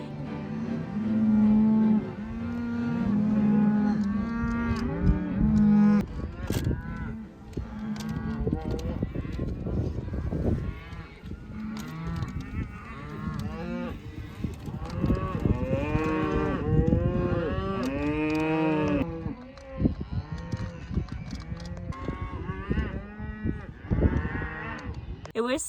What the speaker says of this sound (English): I woke up to a bunch of cows running through here